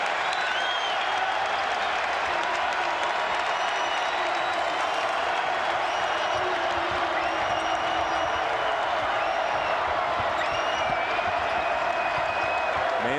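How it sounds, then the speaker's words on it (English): A college basketball crowd roars and applauds in the arena during the 2008-09 Marquette vs. Wisconsin game, a steady, dense wall of cheering and clapping that never lets up, with a few whoops and whistles on top. "This crowd's into it."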